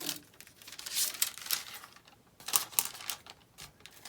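Scissors snip and crunch through a paper pattern along its outer line, giving close, irregular bursts of cutting and paper rustle with brief pauses between them.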